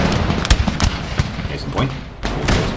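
A musket volley from an elite militia unit in Empire: Total War, a dense crackle of overlapping gunshots with heavy booms, loud and continuous, mixed with battle din.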